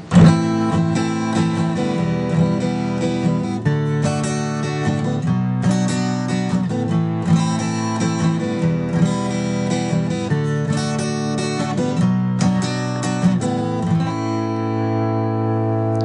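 A guitar strums a sequence of chords, each ringing for a beat or two before changing, moving through a steady progression without any talking.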